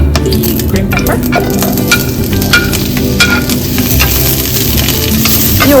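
Green pepper sizzles and fries in hot vegetable oil over high heat, a loud, steady crackling hiss with scattered sharp pops throughout and no talk.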